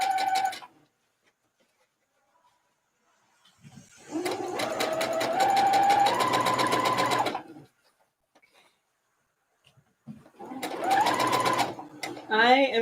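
A sewing machine stitches down the middle of a corset mock-up in two distinct runs, a rapid close whirring for several seconds, then a pause, then a shorter burst.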